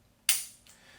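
A single crisp metallic click from the trigger resetting on a Smith & Wesson M&P 2.0 9mm pistol, close and sharp with a faint secondary tick after it, otherwise quiet.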